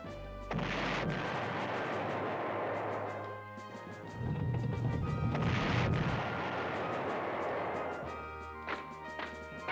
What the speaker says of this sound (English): That artillery is a problem.